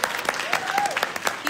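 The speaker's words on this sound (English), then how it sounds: "Wow. Jeez, come on, clap for that." Scattered audience applause at a seminar in London, with sharp individual claps ringing out at an uneven rhythm for a moment while a voice talks over them.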